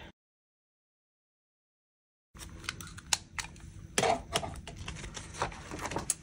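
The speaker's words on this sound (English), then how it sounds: "So I will get my tape runner." A tape runner rolls tape onto planner pages after a silent gap, giving soft close clicks, crackles and rustling paper sounds at low volume.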